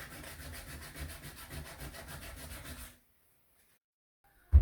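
Steady rhythmic rubbing of hand sanding on the alloy wheel spokes of an MG TF, close and even for about three seconds, then it stops into near silence before a brief loud bump at the end.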